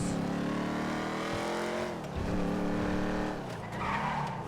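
A fast car skids in the video game GTA V, its tires squealing continuously over a roaring, shifting engine for several seconds, loud and unbroken, with no speech.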